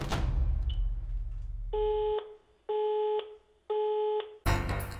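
A dead German landline telephone sounds three steady electronic tone bursts with short silent gaps between them, after a brief rustle of noise and before a louder sound cuts in.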